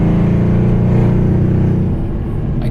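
A Mercedes-Benz CLS63 AMG engine drones loudly in a deep, steady rumble under sustained throttle, close and continuous without voices.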